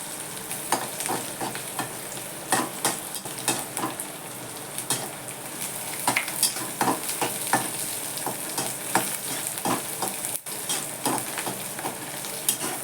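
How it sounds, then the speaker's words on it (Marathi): Garlic, onion, cumin and mustard seeds fry in hot oil with a continuous close sizzle. Spoon or spatula scrapes and clinks against the pan come through repeatedly, and nobody speaks. "लसूण कांदा टाकलाय त्यात मी जिरं मोहरी टाकली"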